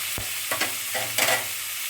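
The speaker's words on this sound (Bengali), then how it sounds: "সুন্দর করে ভাজা ভাজা টাইপের করতে হবে" Kochur loti (taro stolons) fry in a pan over a lowered flame, a steady sizzle broken by several bursts of stirring scrapes, close and moderately loud with no voices.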